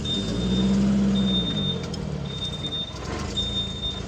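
A truck on the road gives a steady, loud engine rumble with a low droning hum throughout and a faint high tone above it. No one speaks.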